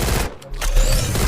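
Gunfire in the Free Fire mobile shooter game crackles in quick bursts, with a short gap before a second rapid volley, loud and close with a dense noisy texture.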